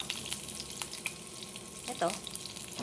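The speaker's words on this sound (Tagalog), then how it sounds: "magigisa tayo ng bawang" Garlic sautés in a pan with a soft, steady sizzle and a brief louder stir or scrape near the end, quiet and close with no voices.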